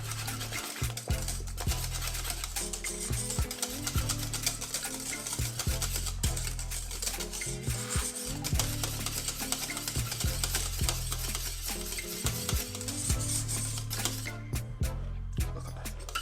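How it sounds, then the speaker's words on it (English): Jamaican cornmeal porridge with nutmeg whisked in a pot, a continuous close rhythmic scraping and swishing of the whisk against the metal, no talking. "Give it a whisk."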